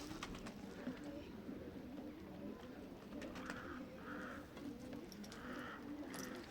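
Pigeons coo in low repeated phrases against a steady outdoor hum, with scattered bird calls and chirps mixed in at a moderate distance.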